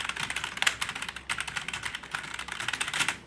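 Rapid typing on a Fantech K611 Fighter membrane gaming keyboard, close and clear, with bursts of soft key clacks in an uneven rhythm and brief pauses between runs.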